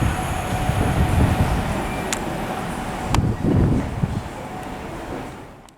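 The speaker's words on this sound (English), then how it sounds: "arriving now is the 11:48 TfL rail service to Shenfield" A TfL Rail class 315 electric train arriving at Romford station on the Great Eastern Main Line, a steady loud rumble of wheels on track with a few sharp clicks from rail joints, fading slightly toward the end.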